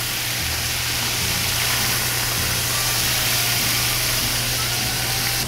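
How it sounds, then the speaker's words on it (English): Oysters deep frying in hot oil give off a steady, dense sizzle and hiss, a continuous close bubbling roar with a low hum beneath and no pauses. "you can hear my oysters have gotten a lot quieter"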